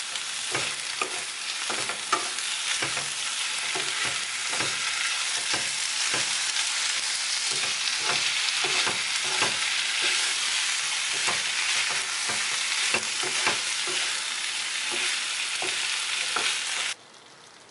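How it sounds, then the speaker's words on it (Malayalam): Prawns are stirred into a spice paste in a frying pan for a Kerala-style thoran. A busy, constant sizzle carries the whole time, with a spoon scraping in a loose, regular rhythm close by and no voices. "നമുക്കിതിലേക്ക് ഇനി ചെമ്മീൻ ചേർക്കാം. നമുക്കിനി ഇത് നന്നായിട്ട് യോജിപ്പിക്കാം."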